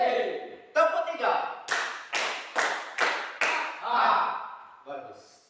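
Children clapping together on a teacher's counted command in a classroom: a series of sharp, loud group claps in a regular rhythm, with a voice giving instructions between them.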